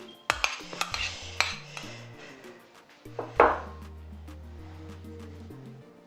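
A spoon stirs chicken and mayonnaise in a bowl, giving sharp clinks and scrapes against the dish at the start and a louder scraping burst midway, over a low steady background tone.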